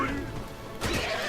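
Horses neigh amid the clash of a battle in the fantasy strategy game Age of Wonders III, a brief whinny followed by a louder burst of combat noise, with no talk over it.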